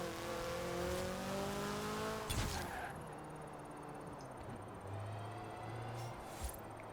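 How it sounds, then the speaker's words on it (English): A supercharged Toyota MR2 engine in Forza Horizon 4 revs and accelerates loudly, its whine climbing steadily before a sharp break and a renewed, lower drone, with faint speech in the background. "The supercharger noise is still there."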